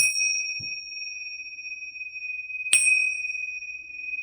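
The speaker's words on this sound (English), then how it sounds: "I'm going to go ahead and give them a hit with my tincture bells" Two clear, bright strikes of small tincture hand bells ring out a couple of seconds apart, each sustaining a pure tone that slowly fades in a quiet room.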